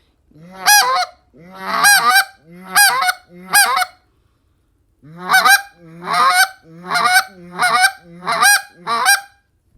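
Goose call blown in repeated double-cluck bursts, two-note honking clucks in two groups of four and five with a pause between, loud and close with no talk.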